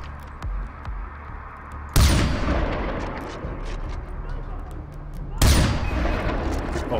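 Heavy sniper shots in Far Cry 4, two booming blasts with long rumbling tails, the second coming a few seconds after the first, over a background of game noise.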